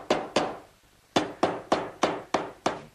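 Hammer blows driving a part down while a wooden medicine cabinet with a mirror is stood upright in a woodworking shop, seven crisp, ringing strikes, two quick ones, a pause, then five evenly spaced, loud and close.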